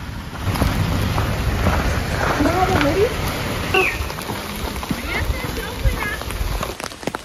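Steady rain hisses against a surface with gusty wind buffeting the microphone, a continuous wash of noise throughout.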